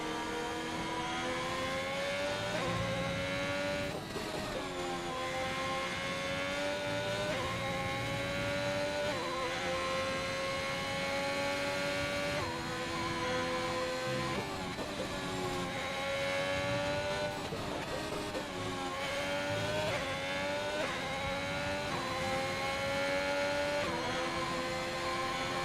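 Race car engine on an out lap in a sim racing game of the Austrian GP, a continuous loud high-pitched wail rising through the gears with repeated shifts and revs dipping and climbing, no talk.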